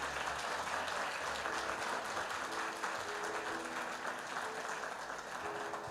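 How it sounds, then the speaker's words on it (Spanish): A church congregation applauds loudly and steadily during a Christian sermon, a dense, continuous clapping from many hands that holds its level throughout with no voices over it. "Dale ese fuerte aplauso al Señor"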